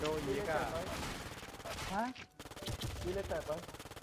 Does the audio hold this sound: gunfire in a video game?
yes